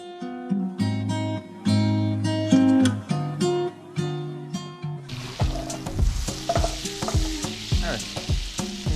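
Butter melting in a hot pan on the stove for caramelized onions, giving a steady sizzle with clinks of a spoon stirring, the frying noise growing denser and louder partway through.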